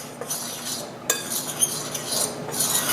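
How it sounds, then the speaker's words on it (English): Dry muffin ingredients for plant-based sweet potato muffins being stirred together in a bowl, with a steady scraping swish and a few light clinks of utensil against the bowl. "I'm going to mix all that together"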